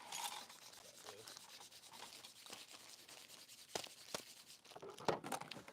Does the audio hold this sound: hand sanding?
yes